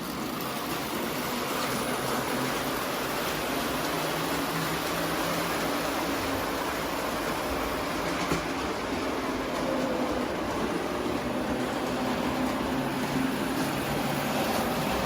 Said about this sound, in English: let's flip the switch and run some trains